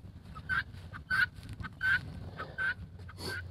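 Guinea fowl give five loud, harsh calls at an even, regular pace, with a low background rumble between each cry.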